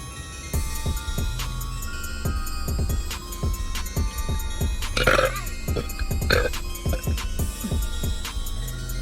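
A girl lets out a run of loud, close belches, one after another with short gaps between them, and no talking.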